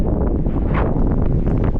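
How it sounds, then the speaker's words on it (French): Strong wind buffets the microphone outdoors in New Zealand after a picnic, producing a steady, loud broadband roar with constant rumbling gusts and no break for the full duration. "Il y a beaucoup de vent, je sais pas si on entend bien"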